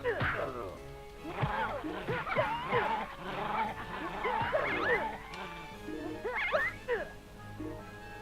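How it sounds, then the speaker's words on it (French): Dogs in the video game Dream Story bark, yip and whimper in a busy run of overlapping cries, with occasional crashing hits mixed in and game sounds underneath. "c'est quoi comme chien là? C'est des chiens?"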